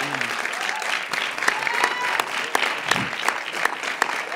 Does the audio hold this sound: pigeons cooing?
no